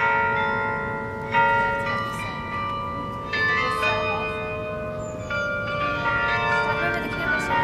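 Church bells of St Martin's peal continuously outdoors, overlapping strikes ringing out over steady background noise at moderate distance.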